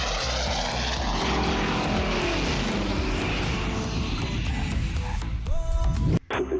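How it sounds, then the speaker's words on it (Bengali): A propeller airplane lands on a runway with a loud, sustained engine drone and roar that holds steady close by, then cuts off abruptly near the end. "সাবধানে ল্যান্ড করো রানওয়ে ফাঁকা আছে"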